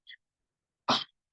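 A single sharp, explosive sneeze bursts out close by, preceded by a faint brief intake, during a quiet exercise class.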